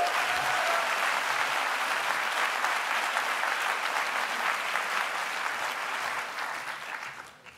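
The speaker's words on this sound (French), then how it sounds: "On peut l'applaudir." An audience claps in a university lecture hall during an honorary doctorate conference, loud, dense and sustained applause that fades out at the close.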